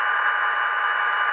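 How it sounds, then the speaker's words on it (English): An HO scale EMD SD45X model locomotive's sound decoder plays brake and flange squeal through a turnout, a steady high-pitched electronic screech held for about a second and a half, close and alone. "You also hear the brake squeal there, flange squeal for going through a"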